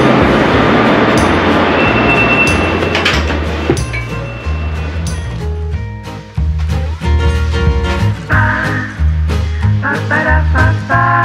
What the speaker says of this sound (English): I took the cheap local train that would take the same amount of time.